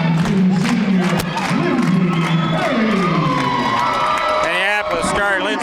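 A modest crowd at a high school girls basketball game cheers and shouts continuously in a large gym, voices whooping loudly throughout.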